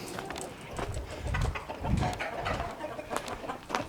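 Wyandotte chickens on a farm give low, soft clucks and murmurs in a loose, irregular rhythm, fairly close but not loud, with some outdoor background noise.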